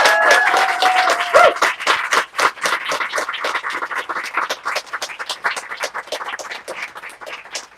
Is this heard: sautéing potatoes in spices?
no